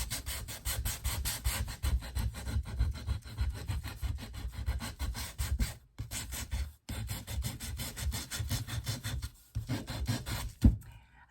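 A power sander with worn sandpaper smooths the edge of a scrap wood piece coated in Mod Podge, giving a steady rasping scrub with short pauses, close and moderately loud, no talking.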